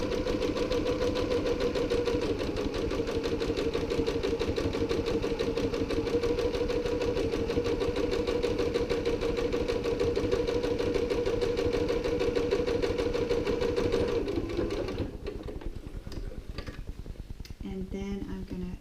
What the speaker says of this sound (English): I want to make sure that I stitch along the base of that pocket